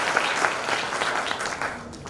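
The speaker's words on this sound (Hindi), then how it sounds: "अपने लिए आप ताली बजा दीजिए सर" An audience applauds at a company award ceremony: a steady, dense wash of many hands clapping, fairly close and sustained throughout, with no voice over it.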